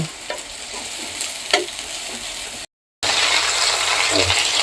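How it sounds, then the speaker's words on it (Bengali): Chopped onions fry in a pan for a home-style Bengali fish curry, giving a steady close sizzle with scraping and stirring clinks, briefly cut by a moment of silence before the frying resumes louder. "এখন আমি পেঁয়াজটাকে একটু ভেজে নিব, বাদামি রঙের অথবা লালচে রঙের করে নিব।"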